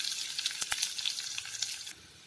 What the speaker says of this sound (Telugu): తాలింపు వేగాక ఈ ఉల్లిపాయ ముక్కలు వేసుకోవాలండి